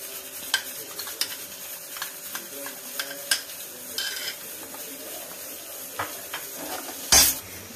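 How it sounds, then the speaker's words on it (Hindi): Spiced liquid masala paste poured into frying masala and stirred with a metal spoon for Amritsari chole, giving a soft sizzle with scattered scraping clinks and a louder splashing burst near the end. "अब हम डालेंगे अपने मसाले का घोल जो हमने बना के रखा हुआ है"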